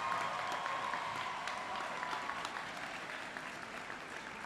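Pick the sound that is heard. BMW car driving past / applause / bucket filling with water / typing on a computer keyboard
applause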